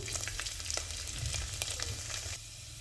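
Curry leaves, cumin seeds and garlic sizzle and crackle in hot oil with mustard seeds, a steady close frying hiss dotted with sharp pops that eases slightly near the end.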